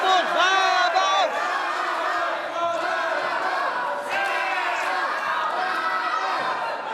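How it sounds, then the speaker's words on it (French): A wrestling crowd at a Johnny the Star vs Barabas match roars and cheers steadily throughout, a loud, dense mass of voices with shouts and whoops rising above the din. "Barabas, on entend la foule."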